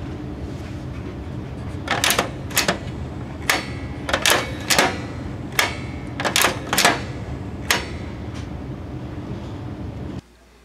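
A 1938 Genco Double Track horse race pinball machine runs its reset mechanism, giving a sequence of sharp mechanical clacks and clicks spaced irregularly over a steady motor hum, which cuts off at the end.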